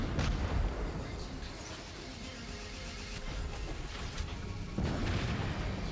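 Rocket explosions in the mech combat game War Robots, heavy rumbling booms and blasts rolling continuously with a fresh burst near the end, loud and dense throughout.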